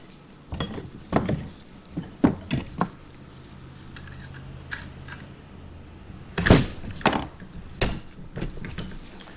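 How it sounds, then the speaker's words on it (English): Crisp metallic clicks, taps and knocks come from handling an AR-15 as its rear takedown pin is pushed out and the rifle is opened, in a quiet room with pauses between bursts. "we'll take the rear takedown pin out"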